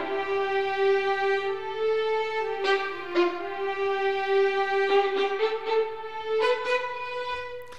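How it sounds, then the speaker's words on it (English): Sampled EWQL orchestral strings moving from sustained legato lines into short spiccato figures, with a smooth held melody giving way to a cluster of quick detached notes, heard alone and fairly quiet. "And now let's listen to the spiccato and sustained legato articulation."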